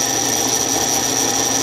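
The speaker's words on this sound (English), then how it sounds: "I love my new drill press." A new drill press running in a home workshop, a loud, steady motor whine with a constant high tone throughout, close and unbroken.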